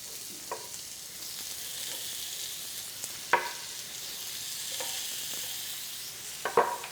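Prosciutto-wrapped asparagus sears in a pan with a steady, fairly quiet sizzle, broken by a few sharp clicks and taps of tongs against the pan.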